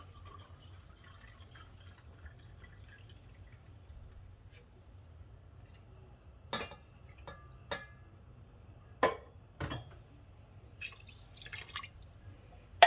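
Water is poured from a tin into a cooking pot in a quiet kitchen, heard as a few scattered drips and splashes spread over a long, otherwise near-silent stretch.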